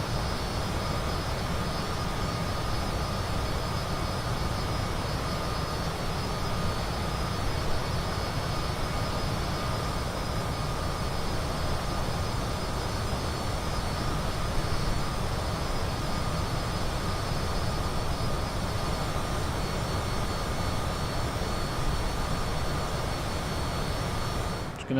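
Steady, loud jet engine roar from an aircraft at full throttle in Microsoft Flight Simulator, a continuous broadband rumble with a faint high whine holding unchanged throughout.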